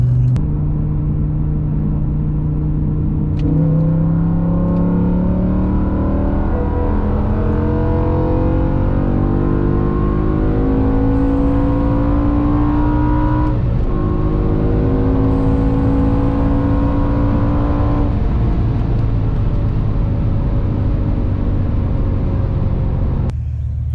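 A car accelerates hard on the autobahn during an acceleration run. The engine is loud and close, and its rising drone climbs steadily through the gears, with audible shift breaks and continuous road roar underneath. No talking.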